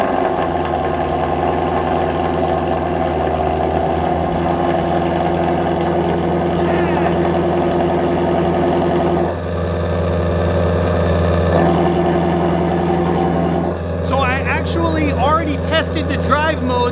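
Ford Mustang GT350R with an AWE Switch Path exhaust on a true cold start, a loud, steady high-idle engine drone held throughout, with a brief dip partway and talking over it.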